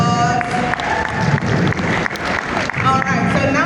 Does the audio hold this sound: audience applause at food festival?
yes